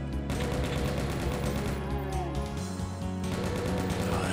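Rapid chain gun fire in the shooter Liminal Waters, a loud sustained mechanical rattle of shots running continuously with booming low impacts and game music underneath.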